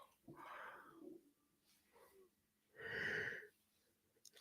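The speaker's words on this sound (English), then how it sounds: "excuse me, yawning" Someone gives a long, breathy yawn, a drawn-out exhale followed by a louder, strained vocal swell, fairly quiet and close, with no words spoken.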